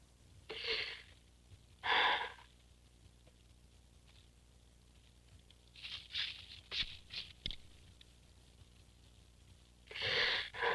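Slow, deep breaths drawn in and let out, each a soft airy rush, separated by quiet pauses; a few shorter sniffs and puffs in between.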